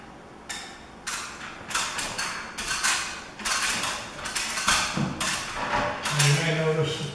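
Pneumatic nail gun driving nails into crown moulding, several sharp close snaps and thuds at irregular intervals against a room background.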